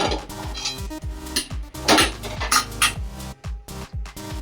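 A kadai (wok) is set down on a stovetop, giving a few metallic clanks and knocks of cookware close by, with rhythmic background music.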